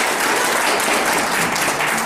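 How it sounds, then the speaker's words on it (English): Audience applause for Linda, an attendee at a talk on aging by Steve Gurney, a dense, steady burst of clapping from a crowd filling the whole clip with no voices. "Let's give Linda a big round of applause."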